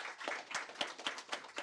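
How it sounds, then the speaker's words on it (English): Audience at a school district candidate forum applauding, a short burst of moderate, evenly spread hand clapping heard from a moderate distance, with no voices over it. "Please give them a round of applause."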